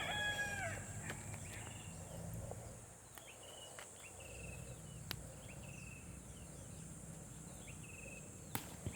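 Chickens at a rural outdoor spot where chili paste is being made, with a rooster crowing early on and scattered faint clucks over steady insect and cricket buzz. No one speaks.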